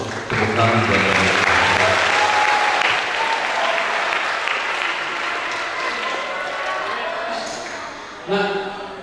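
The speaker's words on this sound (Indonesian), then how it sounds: "Tepuk tangan buat dia." Applause from the crowd at a spiritual motivation talk: loud, sustained clapping mixed with voices and some tonal ringing, slowly fading toward the end before a brief final burst.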